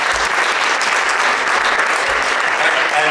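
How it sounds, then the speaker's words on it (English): Audience at a UNLV Spring Jazz Fest concert gives a short burst of steady, full applause for the band's lone trombonist. "Please give her an applause."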